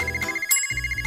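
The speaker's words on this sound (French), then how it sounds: "Est-ce que c'est un téléphone?" A telephone rings in a steady, pulsing electronic trill, fairly close and clear, with a brief break partway through and no talking over it.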